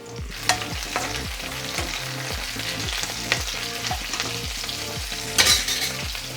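Chilies and curry leaves frying in hot oil for a Kerala-style fish curry, a steady close sizzle broken by repeated stirring scrapes and one sharper spattering burst near the end.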